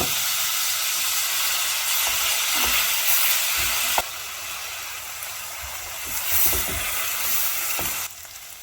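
Onions sizzling in butter or margarine in a pan, a continuous bright hiss and crackle with occasional stirring knocks, fairly close and steady without talk.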